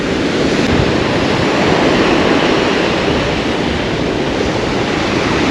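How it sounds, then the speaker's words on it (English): Ocean waves break on a beach during surf fishing, a loud, continuous roar of surf mixed with wind rumble on the microphone, with no talk. "these waves are coming in hot"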